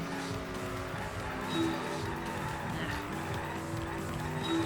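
Steady road traffic in a Danganronpa V3 driving minigame, a constant engine drone with brief tire-squeal-like tones, heard under faint talk.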